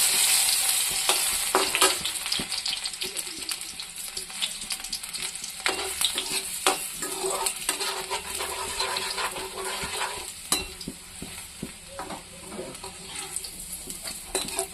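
Garlic and two dried red chillies frying in a wok, a loud close sizzle with crackling spits and scraping stirs throughout, no voices.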